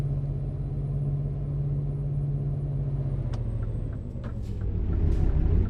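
A low, steady engine hum from a Scania S730 V8 truck in Euro Truck Simulator 2 drones throughout, rising slightly louder near the end, with a faint high whine above it.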